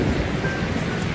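Heavy downpour roaring steadily and close, a dense wash of rain with a low rumble of thunder beneath it, no voices.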